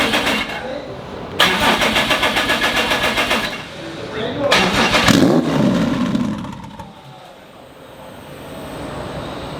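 A turbocharged six-cylinder Subaru WRX STI engine runs up loudly in two surging bursts, then settles to a rough, lumpy idle that fades lower toward the end.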